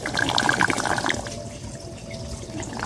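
Water gurgles and drains close by as air sucks into a hole, with a sucking, slurping rush that fades to a softer trickle.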